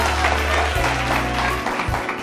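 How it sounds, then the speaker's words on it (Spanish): A TV talk show studio audience applauds a guest singer as he takes his seat. Dense clapping fills the room briefly, with low thumps and murmuring underneath. "Un aplauso para él, por favor"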